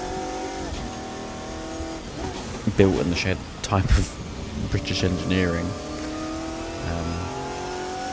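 GT1 race cars such as Saleens, Vipers and a Lister circle Oulton Park in the 2002 British GT race, engines droning and revving steadily beneath continuous commentary, with a louder pass in the middle.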